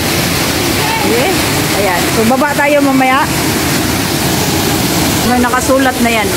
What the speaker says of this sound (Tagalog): So, ayan yung fall.